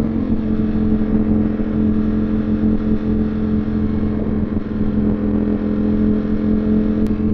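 Ducati Streetfighter V4S motorcycle engine revving loudly and steadily up close on a public street, a strong continuous roar with no voices over it.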